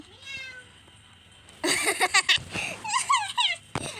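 A jealous cat lets out a thin, falling meow, then a busy stretch of squeaky, rising meows tangled with giggling and laughter, close and lively.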